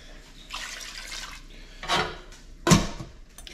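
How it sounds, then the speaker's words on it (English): Water splashes and trickles into a metal pot of clams in a couple of short bursts, close by, with clattering cookware and no talking. "I'm gonna put about 1/2 cup of water in there"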